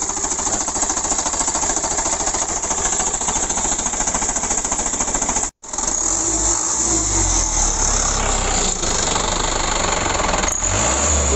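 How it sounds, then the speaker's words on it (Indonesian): A loud diesel engine of an Isuzu Elf NKR 71 truck clatters steadily, cuts out for a moment, then starts again and settles into a rough, knocking idle, with no talking. "Kita coba hidupkan mesinnya. Kita coba hidupkan mesin."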